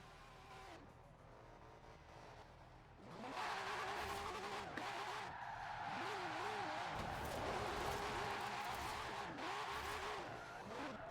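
An Acura drift car in the Forza racing game revs and skids, quiet and low for about three seconds, then a loud, sustained engine roar with repeated rising and falling revs and tire squeal until the end.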